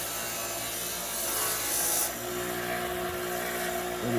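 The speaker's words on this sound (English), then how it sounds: "pulled the old Craftsman bench grinder out, and it's got a polishing wheel on it" A Craftsman bench grinder spins a polishing wheel loaded with black compound, giving a steady, close rubbing whir with a slight rise in pitch midway and brief swells as the workpiece presses against the wheel.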